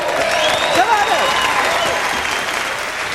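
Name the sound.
audience applause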